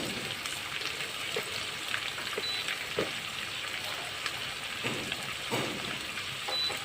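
Two small tomatoes dropped into hot oil in a frying pan, producing a steady, dense sizzle and crackle throughout with occasional louder spatters.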